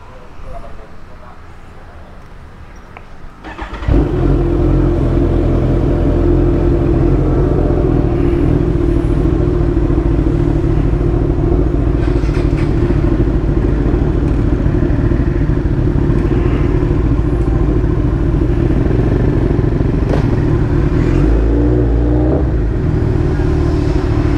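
Several motorcycles on a group ride in Bali roar into motion, a sudden loud jump in engine rumble that holds steady and close, with faint talk underneath.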